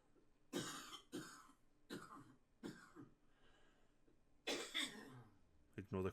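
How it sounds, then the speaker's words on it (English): Someone coughs and clears their throat in the background of a football management game commentary, several separate bursts spaced across the stretch, loud and close, with a pause in the middle. "Ignore the coughing in the background"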